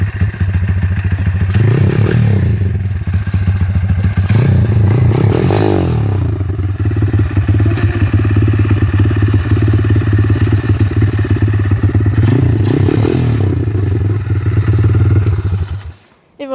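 A YCF 50 Kougar pit bike engine runs close by with a rough, buzzing idle, swelling into several revving surges between clattery stretches, before cutting off abruptly at the end.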